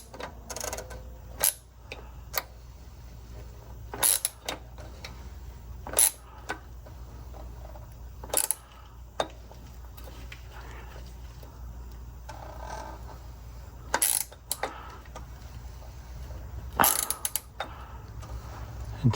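The plastic oil filter cap on a Toyota 4Runner is screwed in by hand, sparse scraping and ratcheting clicks with several sharp isolated snaps spread across a quiet stretch, close up.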